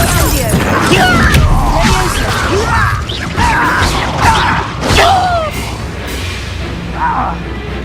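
A spell being cast in a Harry Potter video game, the Incendio fire charm, bursts out amid a busy mix of whooshing magic, crashing hits and game effects, with voices talking over the action.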